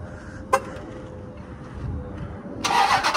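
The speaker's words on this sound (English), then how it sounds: "Let's get a little remote start on the car." A Dodge Charger SRT 392 V8 starts by remote start inside a garage: a sharp click, a quiet stretch, then the engine fires with a loud, rough burst of rising revs at the end.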